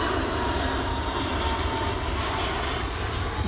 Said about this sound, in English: Jet 2 jetting off this time. It's an A321 Neo.